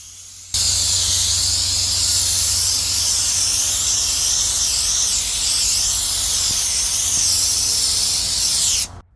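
A loud, steady air spray gun hisses continuously onto a wheel for several seconds, starting abruptly and cutting off sharply at the end.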